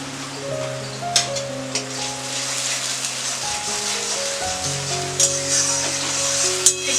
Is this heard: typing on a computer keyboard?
no